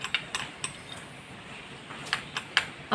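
A spoon stirs a homemade face pack in a small bowl, giving sparse, light clinks and scrapes against the bowl with quiet gaps between them, close and fairly soft.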